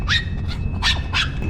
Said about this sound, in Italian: c'è un cagnolino